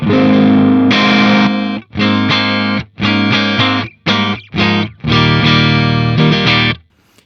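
An electric guitar through a Synergy Syn20IR amp with OS module strums a series of ringing chords in short bursts with brief gaps, fairly clean with a slight edge, no voices.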